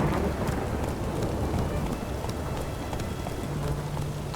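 Steady, dense rainfall in The Witcher 3 as it falls over the city of Oxenfurt, a continuous broadband hiss of drops on surfaces with a low rumble beneath, loud and unbroken without any voices.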